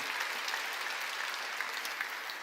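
A church congregation claps steadily during a sermon, a dense patter of applause that holds for the whole moment at moderate loudness.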